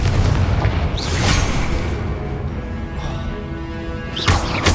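Confringo spell blasts in Hogwarts Legacy, loud booming explosions with fiery crackling bursts, one near the start and another heavier blast at the end, rumbling debris noise between, close and dense with no voices.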